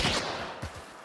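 A few close gunshots in a shooter video game, sharp cracks with quick decay, one at the start and another about half a second later, with no talk over them.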